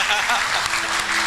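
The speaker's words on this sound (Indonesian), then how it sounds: "Tepuk tangan untuk merah putih kita." Audience applause at an event celebrating Indonesian entrepreneurs, a short burst of many hands clapping with some voices mixed in beneath the clatter.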